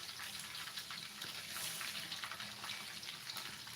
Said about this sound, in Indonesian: Sayur sudah jadi, sekarang ikan goreng.